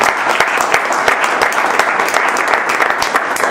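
Audience at a stand-up event for Muslim political prisoners breaking into a round of applause: loud, dense clapping with sharp individual claps rising over the sustained roar for the whole stretch.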